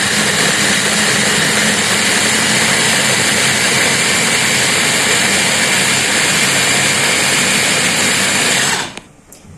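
A blender grinds spice paste with a little water added, a loud, steady whirring roar that holds unbroken for about nine seconds before cutting off abruptly near the end.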